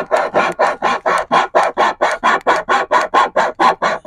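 A hand saw cuts through wood, about fourteen quick, even back-and-forth strokes, close and loud with no talking.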